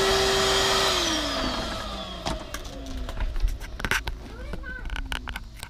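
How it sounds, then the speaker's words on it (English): A vacuum cleaner runs close by in the rear interior of a 2003 Toyota Camry, starting as a steady high whine whose pitch drops and then falls into uneven sucking and rattling bursts as the nozzle works around the back. "We'll just get everything vacuumed up back here"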